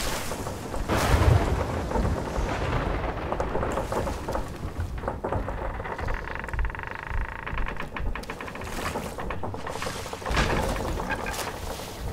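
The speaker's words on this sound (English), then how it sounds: "I told you to drive into the storm!" Stormy weather at sea in Sea of Thieves, with steady rain and rolling thunder rumbling throughout, swelling louder near the start and again toward the end, with no voices over it.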